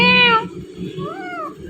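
A talking parrot imitates a cat's meow: two drawn-out, cat-like meows, the first loud and close, the second a little softer, with a mimicked tone that sweeps upward and falls away.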